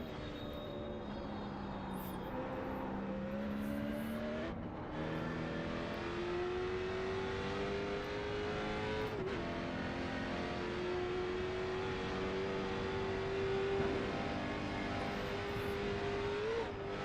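A Late Model Stock V8 race car with a 4-speed transmission winds up through the gears on the Nordschleife, its engine note rising and dropping at each shift, then a long sustained high-revving drone down the straight.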